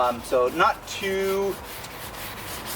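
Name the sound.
hand sanding car wheel with 800 grit paper on foam block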